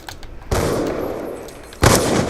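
Two loud gunshots in Black Ops 2, each a sharp crack followed by a lingering wash of noise, with the first leading into a quick weapon swap, no talking.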